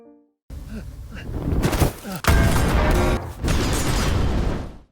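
A dynamite blast on a railway bridge in a film scene, a burst of booming, crackling explosions and rumbling debris that swells, breaks off briefly, then roars on loudly.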